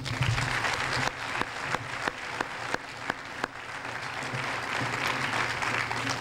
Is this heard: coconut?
no